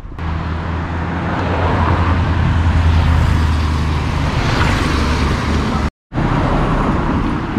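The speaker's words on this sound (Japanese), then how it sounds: "やっぱ全然交通量が違いますね、ここ。 めちゃくちゃ車飛んでますよ。" Cars streaming past on a busy road in the hills of Akiruno, Tokyo, a loud continuous rush of passing traffic with low engine rumble, briefly cut off near the end.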